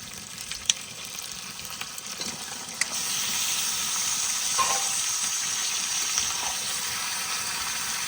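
Pieces of country chicken dropped into sizzling spice paste over a wood fire and stirred, a few sharp scrapes giving way to a loud, steady frying hiss that swells as the meat lands, heard up close without speech.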